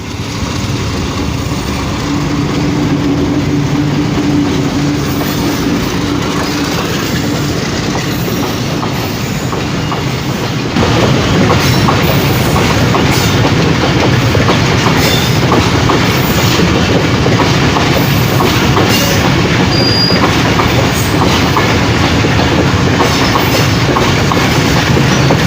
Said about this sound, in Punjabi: ਹੁਣ ਖੜ੍ਹੇ ਹਾਂ ਟ੍ਰੇਨ ਦੇ ਇੰਤਜ਼ਾਰ ਵਿੱਚ।